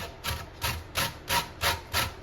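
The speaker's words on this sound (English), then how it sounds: "So here's how I grate lemon zest." Lemon zest scraped across the small holes of a hand grater, six even rasping strokes in a steady rhythm, close and clear with no voices.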